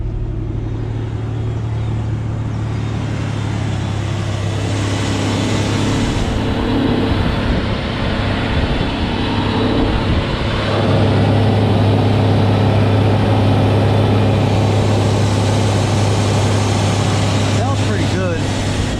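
A red Polaris Ranger engine, freshly rebuilt after a top-end overhaul, idles steadily for the whole stretch: a loud, close, continuous low rumble with a slight exhaust rasp and no revving.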